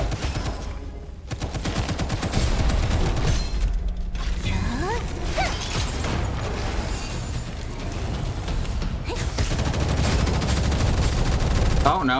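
Sniper rifle gunfire in the video game Gunfire Reborn, with repeated sharp shots and mechanical clatter over busy game sound, steady and loud.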